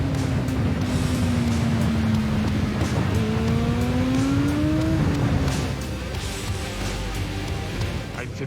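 A motorcycle engine revs hard and climbs in pitch as it accelerates downhill, a loud sustained whine with gear shifts, close and continuous.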